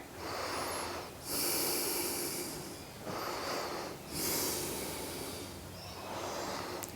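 Slow, deep breathing while holding a yoga twist: long airy inhales and exhales that swell and fade in a steady cycle, close and alone.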